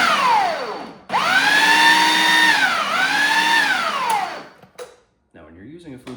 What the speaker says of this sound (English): Now you're just going to pulse it in your food processor until it comes up to the desired consistency.